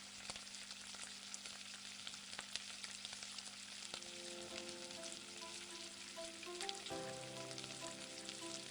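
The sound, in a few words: chicken pieces deep frying for a zinger burger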